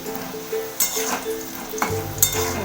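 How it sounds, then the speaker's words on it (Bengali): Potatoes frying in oil in a pan, a continuous sizzle and crackle broken by a few sharp scraping stirs and light clinks of a utensil, close and fairly loud. "লাল লাল করে আলুগুলো একদম ভাজা হয়ে গেছে খুব সুন্দর ভাজা হয়েছে"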